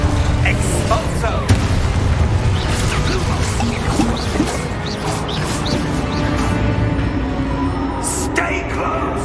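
Booming blasts and crashes from the Expulso explosion spell in Hogwarts Legacy fill a dense, chaotic combat scene, with voices talking throughout.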